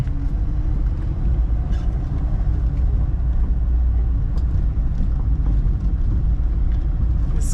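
A 1971 car built on a Fiat-derived platform rumbles along on the road, its engine a low, steady, continuous drone heard from inside, with no voices.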